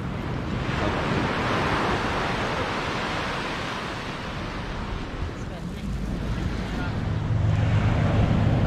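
Sea waves washing onto a beach during an overnight seaside camping trip, a steady broadband roar of surf with wind buffeting the microphone throughout and a low rumble near the end.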